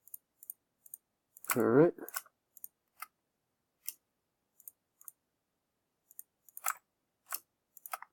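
Sharp, close mouse clicks while selecting in Maya, a quick irregular series of faint isolated ticks with a brief spoken word in between.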